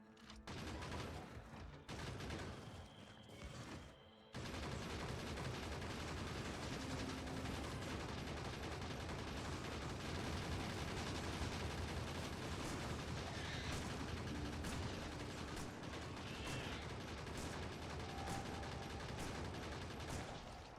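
Video game turrets fire at enemy nests in sustained rapid bursts of gunfire, quiet and distant at first, then a dense continuous barrage after a short pause, with no talk.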